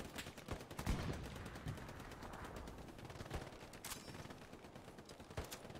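Rapid bursts of rifle and machine-gun fire crackle steadily through a World War II battlefield in Hell Let Loose, distant and close shots overlapping in a dense, continuous barrage with no talking.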